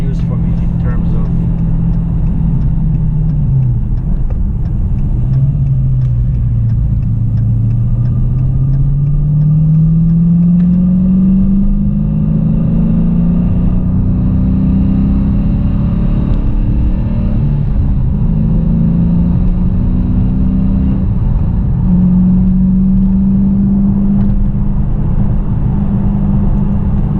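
A 2018 Dodge Challenger R/T Scat Pack's 6.4L Hemi V8 with a cold air intake drones steadily from inside the cabin, its pitch dipping and climbing as it shifts down and revs back up.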